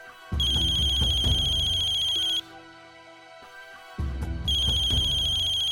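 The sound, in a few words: phone ringtone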